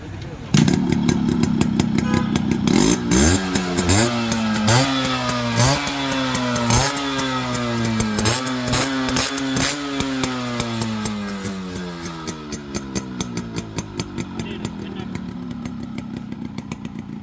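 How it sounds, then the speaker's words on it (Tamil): A restored Yamaha RX 100 motorcycle engine runs close by, revving up and down repeatedly in rising and falling sweeps before settling back toward idle. "இப்போ இந்த வண்டியோட பீட் சவுண்ட் கேட்கலாம் வாங்க."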